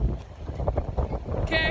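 Gusty wind buffets the microphone at Grand Bend beach, a steady low rumble running the whole time, with a brief higher tonal sound near the end.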